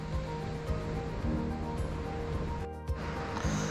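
Waves washing onto the shore at Sagareshwar beach in Vengurla, Sindhudurg, a continuous broad surf roar with gentle swells and a brief lull, no talking.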